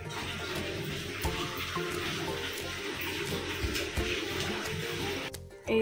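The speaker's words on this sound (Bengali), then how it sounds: "তারপর গুড় দিয়ে এটা ফোটানো হচ্ছে" Tamarind water with jaggery boiling in a pot, a steady, soft bubbling and watery churn that continues evenly throughout, fairly quiet.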